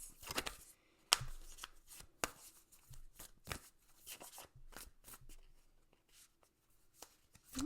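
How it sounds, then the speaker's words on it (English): Oracle cards being shuffled and drawn by hand, quiet and close, with repeated soft riffling and flicking bursts, some sharper card snaps, and light papery rustles in between, no talking. "I'm going to draw an oracle card for Pisces."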